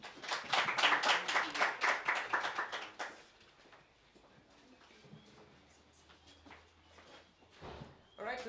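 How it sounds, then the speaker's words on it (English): An audience at an Accelerate2030 Zimbabwe event claps to welcome a speaker: a burst of fairly close, crisp applause lasting about three seconds, then quiet room noise with faint shuffling. "help me welcome Ethel with a round of applause"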